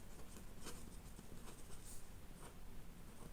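A pen writes on paper during a maths lesson, with quick scratchy strokes and small taps repeating in an irregular rhythm, close and fairly quiet with no talking.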